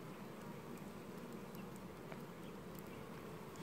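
A buzzing bee hums faintly near a beehive in summer, a low continuous drone that stays steady and quiet with no voices.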